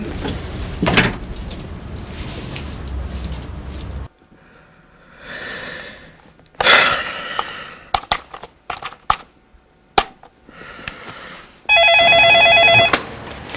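A telephone rings near the end in a steady electronic trill, after a stretch of door and cupboard clunks, knocks and scattered clatter.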